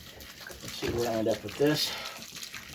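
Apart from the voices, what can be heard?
water poured into concrete mix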